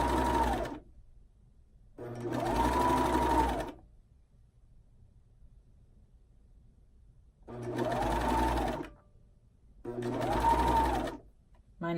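A serger sews swimsuit fabric with elastic, its knife trimming a small edge, in four loud, steady bursts of machine whirring separated by quiet pauses.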